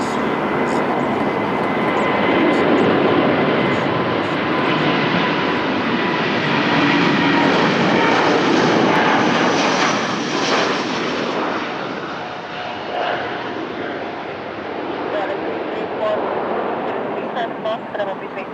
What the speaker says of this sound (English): have a new attack by Portugal, big boy, departing from runway 20. TAP Air Portugal, A330neo, on the way to Guarulhos